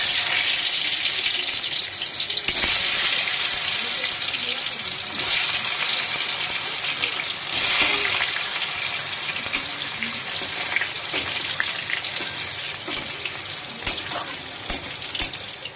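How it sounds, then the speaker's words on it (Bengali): Potatoes frying in a pan give a continuous hissing sizzle, loudest early on and easing slightly later, with a few faint clinks; no speech. "এবার আলুটা একটু ভেজে নেবো আলুটা একটু ভেজে নিচ্ছি"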